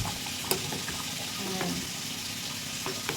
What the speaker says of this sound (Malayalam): നന്നായിട്ട് മീൻ കിടന്ന് തിളക്കട്ടെ.